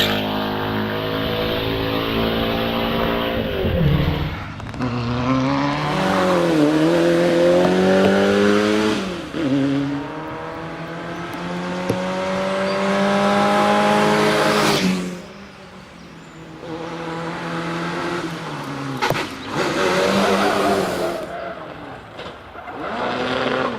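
Big Allard race cars at the Prescott hillclimb accelerate hard through the gears, loud and close, with rising engine notes and gear-change dips, one car after another.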